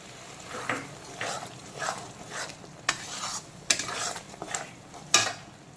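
Ginger garlic paste hits a hot kadai and is stirred, producing a soft sizzle broken by repeated scraping strokes and sharp metallic clinks of the spoon against the pan.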